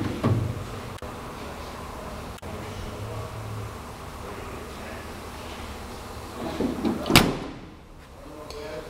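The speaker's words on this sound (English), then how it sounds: "All the doors open and close very well." Compartment doors on a Steelweld utility bed for a dually 60-inch chassis truck, with a low rumbling handling background and one sharp metallic door slam near the end, followed by a quieter lull.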